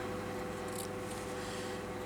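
Scissors snipping thread ends off the top of a crazy patchwork journal cover, a soft close rubbing snip under a steady background hum, brief and fairly faint.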